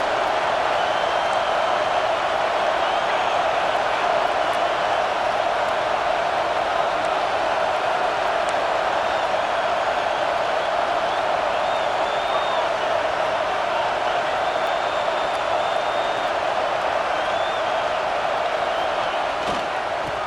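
A stadium crowd roars in the College Football 26 video game, a steady loud wash of noise with faint whistling and cheering running throughout, with no commentary over it.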